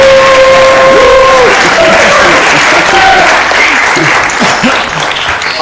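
A large audience breaks into loud, sustained applause to welcome a speaker named Zach, with dense clapping mixed with scattered cheers and a few whistles, holding steady across the whole stretch before easing slightly at the end.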